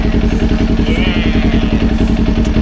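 A Kawasaki Ninja 250 motorcycle engine thumping loud and close in a fast, even rhythm, like idling or riding at steady speed.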